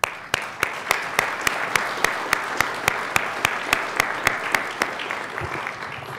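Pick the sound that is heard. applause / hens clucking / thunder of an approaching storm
applause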